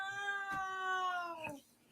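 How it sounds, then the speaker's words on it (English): A protective pet cat gives one drawn-out, husky vocal close by, a tonal, woof-like call lasting about a second and a half that slides slightly downward in pitch, with faint thumps around it. "you heard that woof? That's the first time we've got that woof recorded."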